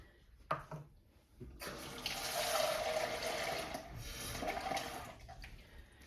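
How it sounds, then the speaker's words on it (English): Two cups of water, about 400 millilitres, pour into flour for salt dough. A steady, moderate splashing stream lasts several seconds, starts after a short knock and fades toward the end. No one talks. "all you have to do is add 2 cups of water, which is about 400 millilitres"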